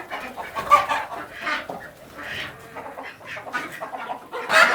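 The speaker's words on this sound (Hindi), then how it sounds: "और ये हो गया जी हमारे पास दूसरा मुर्गा" Roosters and hens at a poultry dealer's house in Sialkot cluck in short repeated bursts, fairly close, with scattered bird calls between them and a louder cluck near the end.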